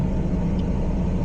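A white car drives past on a road at a driving-test junction, a steady low rumble of engine and tyres at moderate distance with no voices.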